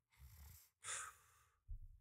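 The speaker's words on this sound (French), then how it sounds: "Ça marche trop bien la respiration du cerveau." Breathing sound effect for an animated brain: slow, close breaths, a soft low inhale followed by a brighter, airy exhale, then another inhale starting, quiet and isolated.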